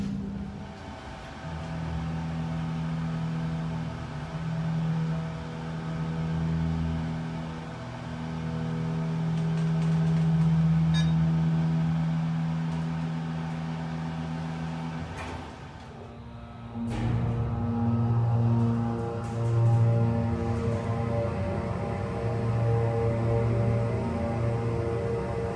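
Hydraulic elevator pump motor running steadily as a loud, close electric hum with a sustained tonal drone, briefly dipping mid-way before resuming with a slightly shifted pitch.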